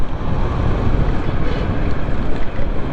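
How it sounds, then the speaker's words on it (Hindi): Strong cold wind from a thunderstorm on a Karachi street blasts loud, continuous buffeting roar across the microphone, with no talk. "और ये तो बहुत ठंडी हवा चल रही है भाई।"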